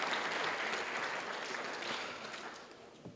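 Crowd applause at a respiratory therapy class pinning ceremony, a dense steady round of clapping that slowly thins and fades toward the end.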